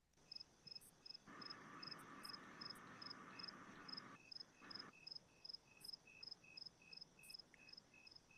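Crickets chirp in a regular, repeating high trill throughout, soft and steady, while a broad hiss swells for a few seconds partway through.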